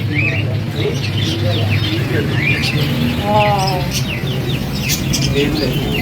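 Many small caged birds, including parrots and pigeons, chirp and tweet continuously at a busy, noisy bird market, with people talking underneath and a steady crowd hum.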